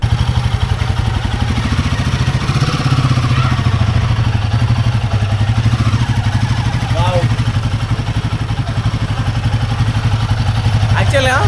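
Royal Enfield Himalayan 450 motorcycle idling steadily and loud close by, a continuous low engine rumble throughout with light clatter on top.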